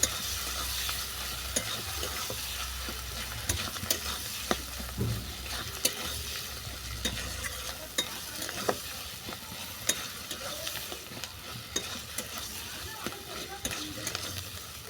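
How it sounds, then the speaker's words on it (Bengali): Sugar and chopped coriander stirred into a vegetarian teasel gourd curry frying in a pan, a steady close sizzle with repeated scraping spoon strokes throughout. "চিনি আর ধনে পাতা ভালো করে মিশিয়ে নিচ্ছি"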